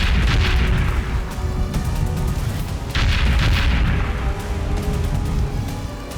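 A Greek oil tanker ship comes under attack, with several loud explosions in quick succession and heavy, overlapping booms and crackling bursts that roll on without a break.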